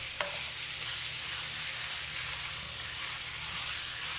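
Pork sautéing in a pan for ginataang baboy, a steady, faint sizzle and hiss running evenly throughout, with one small clink near the start and no voices.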